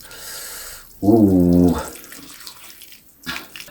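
Hot broth is poured over bakso meatballs and noodles in a bowl: a short, loud splashing gush of liquid lasting under a second, with faint clatter before and after.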